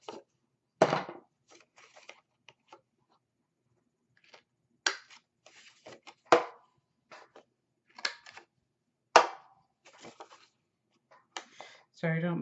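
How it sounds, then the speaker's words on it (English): Small rounded corner punch clicking through paper in a craft session, sharp isolated snaps and thunks spread across the clip with quiet handling noises between them. "I'm just going to use my little rounded corner punch."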